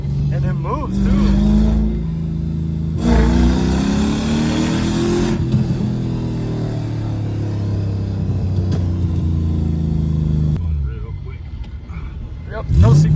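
A Lexus SC400 engine drones and revs as it drives, with rising and falling tones from acceleration and gear changes; someone talks over it throughout.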